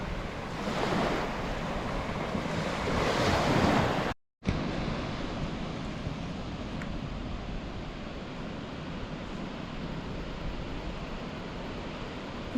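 Rough surf and gusting wind at an exposed river mouth onto an open ocean beach, with a broad steady roar of breaking waves and wind buffeting the microphone throughout, broken by one brief dropout.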